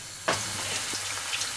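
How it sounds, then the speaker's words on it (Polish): Bacon slices hit a very hot frying pan with a sudden burst of sizzling that settles into a steady crackling fry, loud and close, with no one speaking. "Rozgrzewam patelnię i kiedy jest bardzo gorąca, wykładam na nią plastry boczku."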